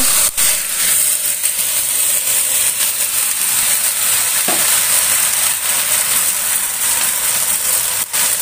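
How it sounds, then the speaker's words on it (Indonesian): Mustard greens with a splash of water hitting a hot pan, giving a loud, steady sizzle and hiss of steam for the whole stretch, with a brief clatter around the middle. "lalu masukkan sawinya. Ini saya tambahkan, lalu beri sedikit air."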